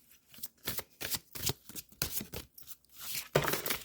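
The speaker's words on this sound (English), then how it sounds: "let's go ahead and shuffle some more cards" A deck of tarot cards being shuffled, with repeated crisp riffling bursts in an uneven rhythm, close and fairly loud, with no talking.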